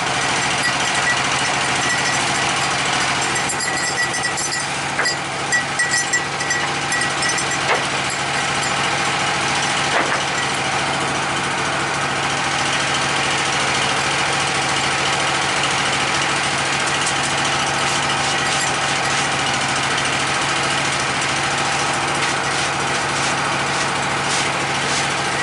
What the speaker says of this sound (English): when I'm cutting and I'm running the mechanism there to go forward when I'm cranking it